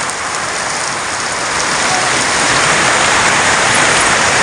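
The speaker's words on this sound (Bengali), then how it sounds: "আরে বৃষ্টি দেখছ?" Rain falling on a rainy day, a dense, loud, steady downpour hiss that builds slightly and fills the whole scene close by, with no voices.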